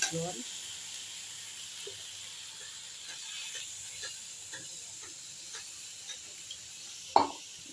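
Eggplant and tomato frying in a pan give a faint, steady sizzle, broken by scattered soft spatula taps and one sharper clatter near the end.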